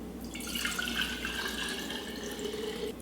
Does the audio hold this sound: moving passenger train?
no